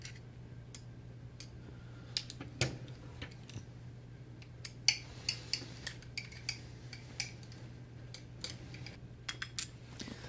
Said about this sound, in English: you're going to need a 4mm Allen wrench to remove these 4 screws